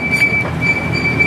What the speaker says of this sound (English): I ride the train at Gatorland